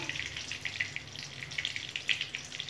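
Bay leaves dropped into hot oil in a pan for an egg curry, crackling in small scattered pops and spits over a low sizzle, close and fairly quiet, no talk.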